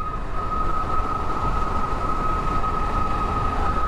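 A $10,000 electric scooter running at full throttle at high speed, giving a steady high-pitched motor whine over constant rushing wind noise, close and unbroken.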